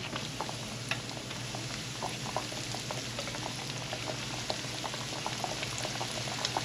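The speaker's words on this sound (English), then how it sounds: "we are frying oxtails" Steady, close sizzling and bubbling of oxtails frying in hot oil, with scattered pops and crackles throughout and no talking.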